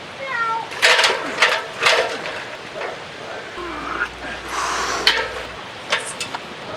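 A cat stuck up in a tree meows several times, plaintive, rising calls spread through the moment, fairly close, with outdoor background noise.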